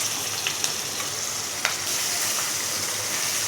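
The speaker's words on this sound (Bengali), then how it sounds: "এবার আমি দিয়ে দিলাম পেঁয়াজ বাটাটা" Onion paste hits a pan of fried garlic and sizzles loudly, a dense steady frying hiss close by with a couple of faint clicks and no talking.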